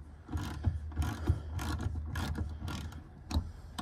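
A ratchet loosens a bolt on a Honda Element door, giving a run of quick metallic clicks in uneven bursts, close and fairly quiet.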